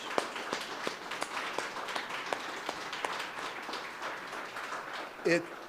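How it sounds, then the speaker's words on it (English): An audience at a January 2022 company town hall applauds, a steady patter of many hands clapping at moderate distance, with a brief voice near the end. "give yourselves a huge round of applause"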